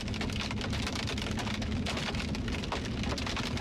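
Hail falling during a thunderstorm in Montana, caught while storm chasing: a dense, steady roar of pattering impacts with sharp clicks scattered throughout, loud and close, with no voices.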